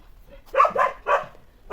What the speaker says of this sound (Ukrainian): І він уже гавка.